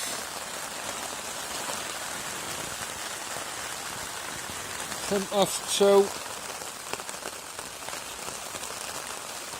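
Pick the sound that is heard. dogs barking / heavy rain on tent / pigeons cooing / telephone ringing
heavy rain on tent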